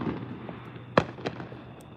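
Fourth of July fireworks going off outdoors at night, a single sharp bang followed by a few fainter pops and crackles against a low background hum.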